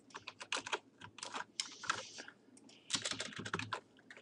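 Fast, close typing on a computer keyboard, with uneven bursts of clicky keystrokes and a brief pause midway.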